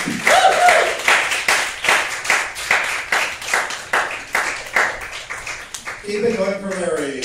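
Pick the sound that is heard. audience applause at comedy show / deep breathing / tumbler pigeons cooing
audience applause at comedy show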